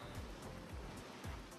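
Gentle water waves lapping in a metaverse video game world, a soft continuous wash with a few low swells rolling in, quiet and close.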